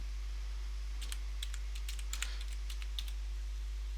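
Someone types on a computer keyboard in short bursts of light, crisp keystrokes heard close up over a low steady hum, with pauses between the bursts.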